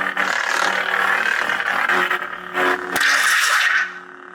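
A Korbanth Graflex lightsaber with a Titan Class upgrade gives a loud, deep, throaty hum with a steady low buzz. Several swelling swings surge through it before it fades near the end.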